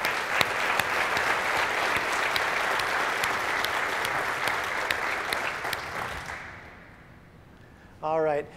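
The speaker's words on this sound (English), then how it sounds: "Okay, that's worth a round of applause." Sustained, dense audience applause fills the room for about six seconds, then tapers off into quiet before a voice starts speaking at the end.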